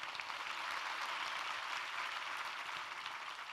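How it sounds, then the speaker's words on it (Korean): A church congregation gives applause for the choir, a steady, moderately faint patter of many hands clapping throughout. "우리 성가대 격려의 박수 한번 부탁합니다"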